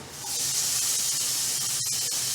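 Onion sizzles steadily after hitting a hot pan, a constant bright hiss running throughout with a couple of faint clicks near the end.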